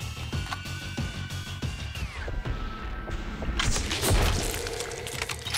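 Loud crashing and smashing bursts with heavy thuds and a steady high electronic whine, dense and busy like explosions and impacts in the video game Sniper Killer.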